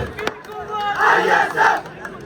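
A crowd at a political rally in Azad Kashmir chants slogans together, a loud swelling roar of many voices in two strong surges, fairly close and filling the space.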